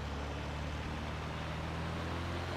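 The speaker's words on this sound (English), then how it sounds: "Now you listen, and the engine's going to get louder." Piston engine of a Lancair Legacy plane in a flight simulator game, a steady, low droning hum with a constant tonal whine, fairly faint and unbroken, no talk.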